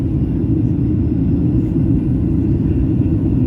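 Steady low rumble of an airliner cabin in flight on a trip to Boa Vista, Cape Verde, a constant close engine and airflow drone with no talk.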